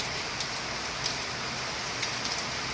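Heavy rain falling in Bhubaneswar, a steady dense hiss of rainfall with occasional louder drops, constant and even across the moment with no voices.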